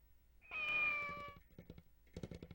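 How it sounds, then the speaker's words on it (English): A cat meows in the 1994 Super Famicom game Kamaitachi no Yoru, one long drawn-out meow followed after a short pause by a second, clear and close with no talk over it. "Kitty. A cat."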